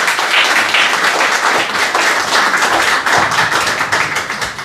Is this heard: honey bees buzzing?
no